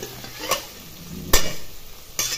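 Moong dal sautéing in oil with spices gives a soft continuous sizzle, broken by three sharp scrapes of a spoon against the pan.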